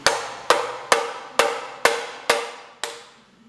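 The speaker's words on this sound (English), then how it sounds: "Take the hammer, wedge it in here, and just kind of try to pry on it" Seven sharp metallic strikes ring out at a steady rhythm, each decaying quickly, close by with no talking, as a hammer pries on a metal part of a John Deere 212 tractor.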